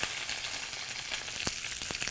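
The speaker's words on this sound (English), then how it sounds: "You hear that? That sizzle? That's what you want." About a pound of green beans sautéing in a hot pan gives a loud, steady, crackling sizzle with a few sharper pops, close and continuous with no talk.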